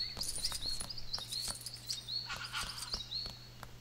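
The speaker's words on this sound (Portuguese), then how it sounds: "Tem aqui umas araras ali no meio do mato. Parece, fazendo uns barulhos estranhos." Quiet bird calls in a jungle setting within a LEGO Jurassic World video game: short, chirping macaw cries repeat at a moderate distance, with soft footstep-like patter and a low steady hum underneath.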